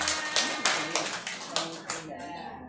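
Clapping from a group acknowledging a school group's presentation, a burst of claps that fades out near the end, with voices underneath.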